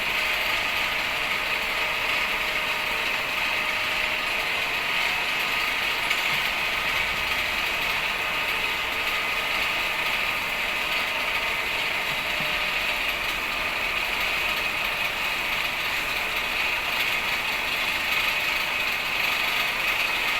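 A rotating electrical machine in a machine lab runs steadily at 1500 RPM, giving a continuous loud whine and mechanical hum with a ratcheting, gear-like texture that holds unchanged for the full stretch, with no voices.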